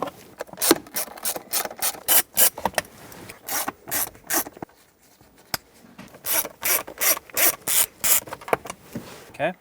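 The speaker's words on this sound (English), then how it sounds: "we're going to have to remove the 4 T20 screws" A screwdriver ratchets out T20 screws from the center console lid of a 2007-2014 Chevrolet Silverado 2500HD, giving close bursts of quick clicking and scraping with a short quiet gap midway.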